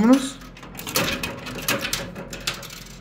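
Coins rattling and clinking into a coin pusher arcade machine loaded with stacks of ten-peso coins, heard as a series of short metallic clatters over mechanical whirring while a person talks.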